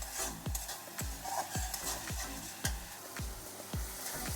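Spice paste with green chilli and ginger sautéing for a Bengali prawn and pumpkin dish, with regular spatula strokes about twice a second over a low, steady sizzle, close and moderately quiet.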